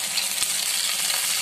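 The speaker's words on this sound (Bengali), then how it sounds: "এটা ভালো করে ভেজে নিচ্ছি" Corn kernels frying in a pan give a dense, even hiss of sizzling with faint scattered ticks, close by and alone.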